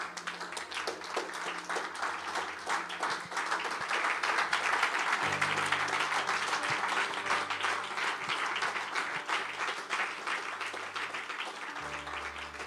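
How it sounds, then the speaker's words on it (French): A church congregation claps and cheers in praise of the Lord, with lively sustained clapping over sustained musical tones that swell in the middle and continue to the end. "Est-ce que tu peux donner une acclamation au Seigneur?"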